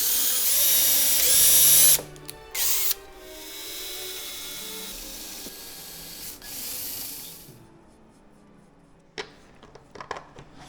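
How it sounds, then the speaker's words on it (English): A power drill bores holes into a 1980 Mk1 Golf GLi body panel, a few short bursts of high whining and grinding followed by quieter handling and light clicks, close and with no talk. "Then the holes are marked and drilled out."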